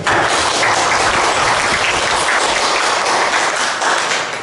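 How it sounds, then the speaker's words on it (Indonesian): An audience at a school gathering claps steadily together, producing a dense, even wash of applause that holds its loudness for several seconds without any talking over it. "Mari kita beri aplaus bersama untuk mereka."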